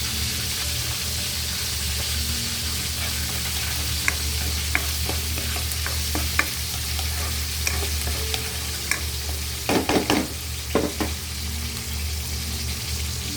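Bitter melon dish frying in a pan with fish sauce just added, giving a steady hiss of sizzling oil and scattered clicks and scrapes of stirring, with a brief cluster of louder clatters partway through.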